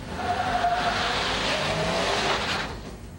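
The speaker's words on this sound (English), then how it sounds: "First, the four-wheel drive Dodge" A four-wheel drive Dodge truck drives across a slippery surface, with a steady engine roar and tire noise, fairly loud and continuous, easing off at the end.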